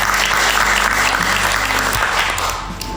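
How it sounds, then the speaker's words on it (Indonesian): Loud applause for a school photography and videography team of SMK Nasional Malang, a dense roar of clapping over a low hum that fades slightly toward the end. "Tepuk tangan untuk semuanya."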